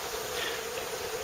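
Faint, steady buzzing of bees and wasps flying around honey supers left out to be cleaned, a soft continuous insect drone with a thin high whine, heard alone and briefly.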